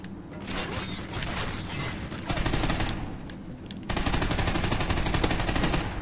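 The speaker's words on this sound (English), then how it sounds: "I shot my gun." Rapid bursts of automatic gunfire in the Batman Arkham Knight video game, loud and sustained, with a steady rattling stretch that grows heavier in the final seconds.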